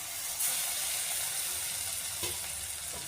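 Soft, steady sizzling of masala paste sautéing in a pan for Chettinad blood fry, a continuous hiss with occasional faint clicks and scrapes.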